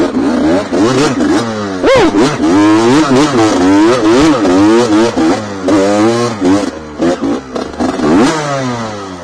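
An enduro motorcycle revs hard and close while being ridden, its engine note rising and falling in repeated loud surges throughout.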